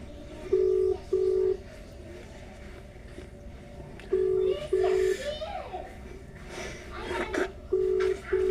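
Outgoing WhatsApp voice call ringing on a phone, a repeated steady ringback tone in paired bursts with long gaps, fairly loud over a quiet room with faint background noise.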